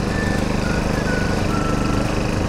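A hammer knife mower cutting dry, withered grass drones loudly and steadily up close, its engine giving a continuous, evenly pulsing roar with no pauses.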